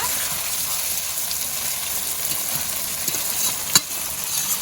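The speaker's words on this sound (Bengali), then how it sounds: "আমি ভালো করে এবার কষিয়ে নিচ্ছি" Chicken pieces stir-frying for chicken kosha, a steady close hiss of frying in the pan with faint stirring scrapes and one brief sharp clatter near the end, no voices.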